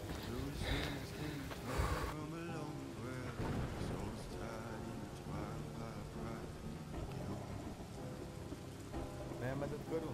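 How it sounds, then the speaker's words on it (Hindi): Sudden monsoon rain comes down hard and steady, a dense hiss of drops close around. Voices can be heard over the downpour. "अचानक बारिश शुरू हो गई।"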